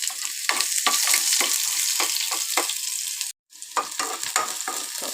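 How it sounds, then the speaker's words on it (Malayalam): Small onions sizzling and crackling in hot oil with spattering mustard seeds, a steady bright frying hiss with stirring scrapes throughout, cut by a brief silent gap near the middle, no voices. "ഇതൊക്കെ പൊട്ടിക്കഴിഞ്ഞ് നമ്മൾ ഇതിലേക്ക് ഇട്ട് കൊടുക്കുന്നത് ചെറിയ ഉള്ളിയാണ് കേട്ടോ"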